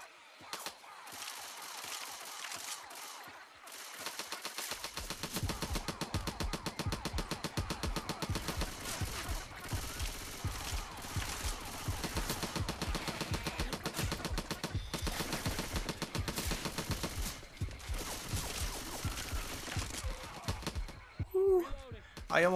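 Dense, continuous gunfire from co-op Left 4 Dead 2 play, rapid rounds crackling almost nonstop for most of the stretch after a quieter opening, with game noise and voices mixed in underneath.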